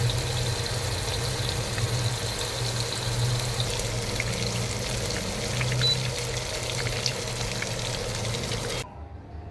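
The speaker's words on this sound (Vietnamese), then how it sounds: "Bây giờ mình sẽ chiên đậu hũ." Tofu frying in a pan for a Vietnamese fish noodle soup dish, a steady close sizzle and crackle with a low hum underneath that runs unbroken for about nine seconds before cutting off.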